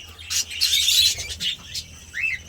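Budgerigars and cockatiels chirp in a warm breeding room, a cluster of bright, close tweets with a short rising call near the end over a low background hum.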